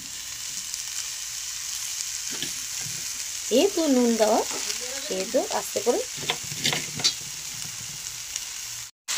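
Chopped fenugreek leaves fry with potato and brinjal in a pan, a steady sizzle running throughout with stirring scrapes, while someone talks over the cooking in the middle.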